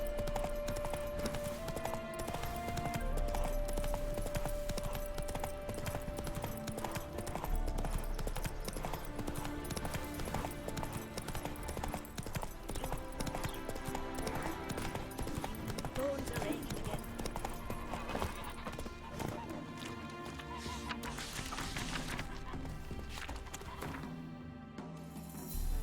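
A horse gallops in The Witcher 3 video game, its rapid clip-clopping hoofbeats running continuously over game music and sound effects, with a voice speaking briefly.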